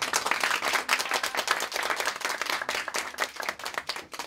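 Audience clapping to welcome a staff member at a Stand Up community staff introduction, a dense, steady burst of many hands applauding loudly throughout with no talking.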